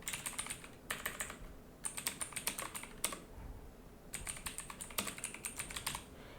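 A stream title is typed on a computer keyboard in several quick bursts of clicky keystrokes separated by short pauses, close but fairly quiet.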